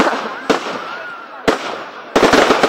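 A fireworks display sends out loud, sharp bangs at roughly one-second intervals, ending in a rapid cluster of crackling bursts, with a crowd murmuring in the background.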